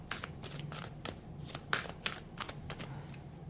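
Tarot cards are shuffled by hand in a run of quick, crisp flicks and riffles, close and fairly soft, with no talking.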